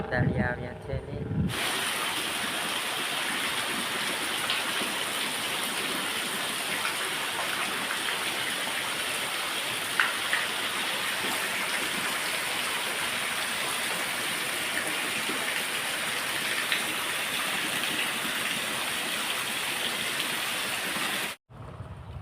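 Steady, heavy rainfall pours down on a farm field in an unbroken, close hiss of water that stays at a constant level throughout, with no talking.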